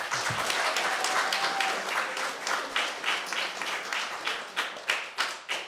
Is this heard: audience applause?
yes